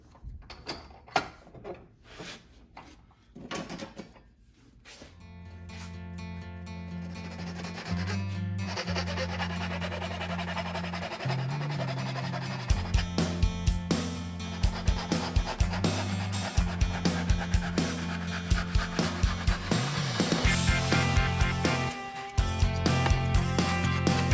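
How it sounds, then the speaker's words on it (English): A wooden axe wedge is cut and then sanded to a point. Scattered scraping and rasping lead into a loud, steady power-tool whine with harsh grinding against the wood, all close and without talk. "So we'll cut this how it needs to be, and then we'll sand it to a little bit more of a point."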